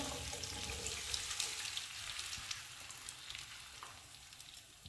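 A besan and semolina mixture is added to a pan and fries with a soft, steady sizzle and small crackles, faint and continuous.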